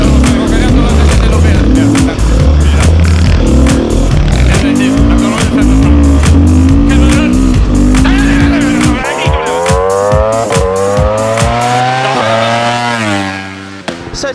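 A 2021 Beta 390 RR dirt bike revs hard on a trail in the Grampians, its engine loud and close, surging and dropping with throttle blips, then climbing in a long rising rev toward the end.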